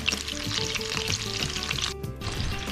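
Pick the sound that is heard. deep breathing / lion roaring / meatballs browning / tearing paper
meatballs browning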